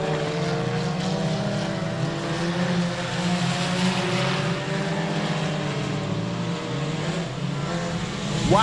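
Race cars roaring around the oval at 67 Speedway of Texarkana, a continuous layered engine drone from several cars battling for the lead, steady and fairly loud, with a rising whine near the end.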